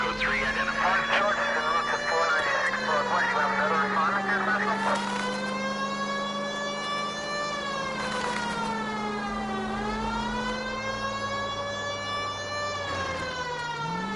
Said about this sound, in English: Siren, just got a code 3.